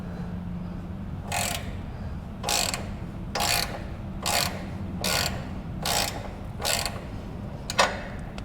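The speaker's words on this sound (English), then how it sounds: "we're gonna have our ratchet going counterclockwise" A ratchet wrench on a John Deere E110 tractor-style mower clicks through counterclockwise strokes, about eight short, sharp bursts of ratcheting roughly every 0.7 seconds with quiet gaps between, close and clear.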